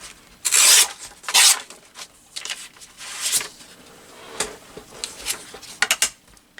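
Paper is cut and trimmed by hand, giving bursts of scissor snips and papery rustling and rubbing, some loud and close, with quieter handling in between.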